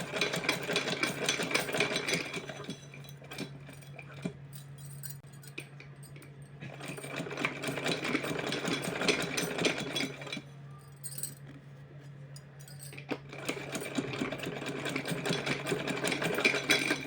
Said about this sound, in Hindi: इस तरह से चोली की सिलाई लगाऊंगी मैं यहाँ